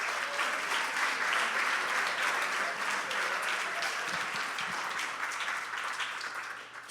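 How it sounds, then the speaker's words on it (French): Sustained audience applause at a youth high-school talent show final, dense steady clapping from a large crowd filling the whole stretch before tapering slightly at the end. "Donc, une bonne main d'applaudissements."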